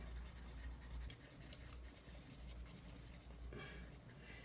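A pencil drawing on paper in small circular strokes to build skin texture on a portrait set on an easel, a continuous close scratchy rubbing with no talk.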